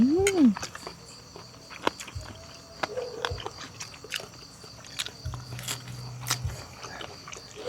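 Crunchy biting and chewing of a spicy seafood glass noodle salad, with irregular close-up crunches and smacks at a moderate level over a soft background.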